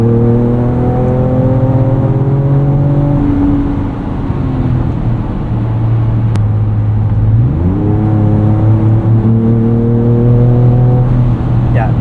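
A 2024 Ford Ranger Raptor with a Ford Performance tune accelerates hard on a highway, its engine loud and close as the revs climb, drop at a gear change, then climb again.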